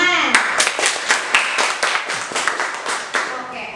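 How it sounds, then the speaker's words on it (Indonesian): A small group of people claps hands in a rapid, uneven burst for several seconds, with a voice briefly heard at the start. "Keren banget, tepuk tangan."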